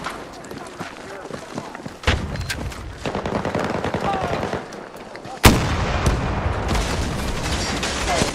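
Gunfire from Battlefield 2042 on PS5 sounds as a dense, continuous battle din of rapid shots and heavy booms, with two sudden louder blasts that lift the level. Game voices sound faintly beneath it.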